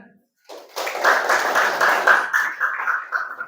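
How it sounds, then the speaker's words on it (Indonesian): Classroom applause from a group of students during a teaching session, a dense burst of clapping that begins after a brief pause and carries steadily for about three seconds before tapering slightly. "Tepuk tangan"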